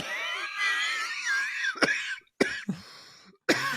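Several sharp, harsh coughs in quick succession follow a stretch of strained, high vocal wheezing, with short silent gaps between the loud bursts.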